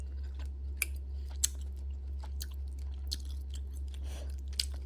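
Close-up, soft chewing of bok choy, king oyster mushroom and beef from a malatang, with occasional crisp crunchy bites over a low steady background hum, no talking.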